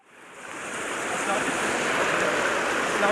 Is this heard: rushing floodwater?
yes